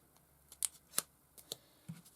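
Scissors snip paper being trimmed for a vintage-style floral journal, a few quiet, sharp cuts spaced irregularly, close by with no talk.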